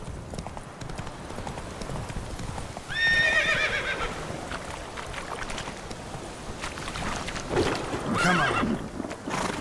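Roach, a horse in the video game The Witcher 3, gallops with steady clip-clopping hooves and lets out a loud whinny near the end, while a voice briefly urges it on.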